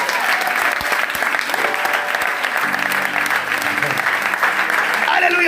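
A church congregation bursts into loud, sustained applause, a dense continuous wash of clapping hands filling the room while voices and music carry on underneath.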